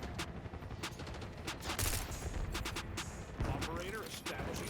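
Rapid bursts of gunfire crackle through a Black Ops 6 multiplayer match, shots coming in quick volleys with a loud cluster midway, set against a busy game soundscape.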